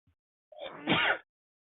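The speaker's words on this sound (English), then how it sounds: "Excuse me, I'm gonna sneeze." A single sneeze, a brief rising intake followed by a sharp, breathy burst, close and otherwise quiet.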